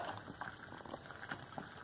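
An egg boils in water on a small makeshift stove, a faint continuous bubbling and popping patter heard up close with no talking.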